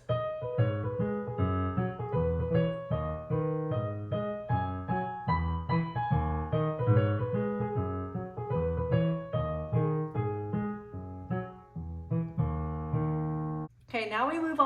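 Piano runs a repeating loop at full speed, brisk repeated chords and a descending bass line in quick rhythm, close and steady, ending in a short pause and a brighter burst of notes.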